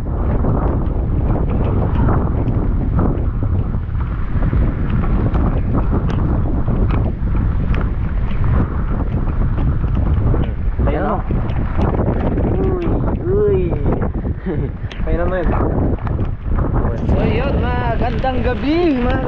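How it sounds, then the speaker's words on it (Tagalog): Strong wind roars steadily through a rainy, stormy night in the Philippine countryside, loud and buffeting close to the microphone throughout, with occasional voices and background sounds under it. "maulan at mahangin na gabi"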